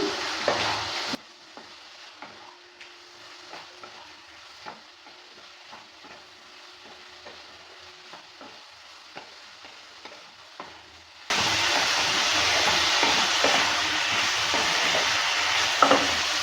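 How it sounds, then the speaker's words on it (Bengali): Potatoes and pointed gourd sizzle and fry in spice paste in a pan, with repeated scraping stirs of a spoon tapping rhythmically, before a louder, hissing frying sound takes over near the end. "এবার এর মধ্যে দিয়ে দিচ্ছি আলু আর পটল যেটাকে ভেজে রেখেছিলাম আলু পটলটা দেওয়ার পর ভালো করে মিক্স করে নিচ্ছে"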